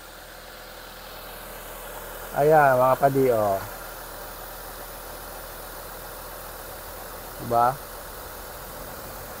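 A Mitsubishi Lancer GSR with a 4G92 engine idling quietly, a low steady hum throughout while someone speaks briefly over it.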